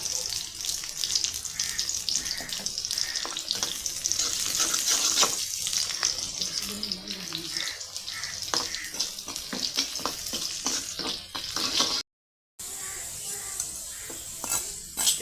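Oil heating in a pan for tempering a dried fish curry, a soft continuous sizzle and crackle with scattered light clicks and utensil taps, fairly quiet throughout and cut by a brief dropout near the end.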